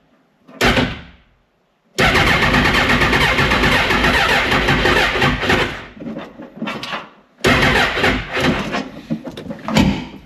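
A Smart car's starter motor cranks the engine in several loud, close bursts on its first start, with short pauses between attempts; no talking.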